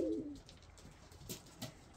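Homing pigeons in a loft give a soft, low cooing call close by, followed by faint rustling and light taps in a quiet space, with no talking.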